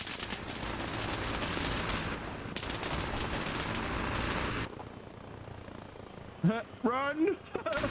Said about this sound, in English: It's him shooting.